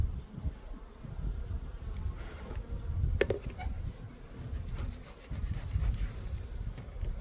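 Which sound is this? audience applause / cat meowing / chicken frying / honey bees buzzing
honey bees buzzing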